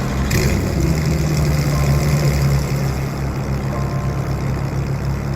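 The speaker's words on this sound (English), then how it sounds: "Loud idle." Loud idling engine of a GT3 sports car with a wing and dual center exhaust in the Roblox game Greenville, a steady low rumble that holds for several seconds with no talking.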